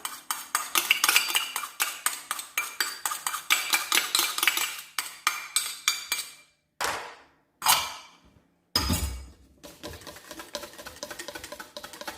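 Homemade liquid children's shampoo being stirred in a container with a utensil, giving rapid clinking and scraping against the sides, steady at first, then broken into a few short separate strokes before resuming, close and fairly loud, with no talking.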